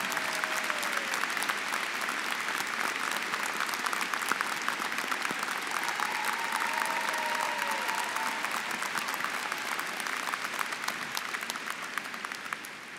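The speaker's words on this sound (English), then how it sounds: "Please give the faculty a round of applause." A large commencement audience at a college of arts and sciences applauds the faculty with steady, dense clapping that fills the hall for the whole stretch, keeping an even level and tapering slightly at the end.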